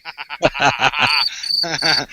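A chirping cricket sound effect played during a live radio talk show, with a short burst of high, bright chirps alongside a warbling, voice-like tone.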